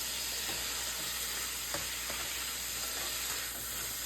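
Pancit noodle ingredients sautéing in a hot pan with a steady, close sizzle and crackle of frying throughout, a few soft stir clicks breaking through, no talking.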